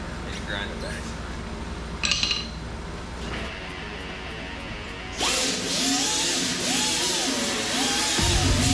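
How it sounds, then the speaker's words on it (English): After some clinks and quiet handling of tools, a grinder starts up on a car body panel, a loud, close, harsh whine with its pitch rising and falling as it works the metal. "And grind it back."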